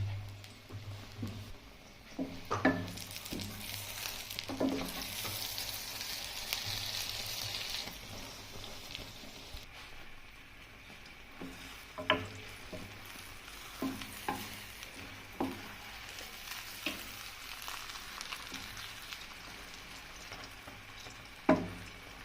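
Spicy egg omelette frying in a kadhai, a steady low sizzle running throughout with occasional sharper clicks and taps of a utensil against the pan, fairly faint and close.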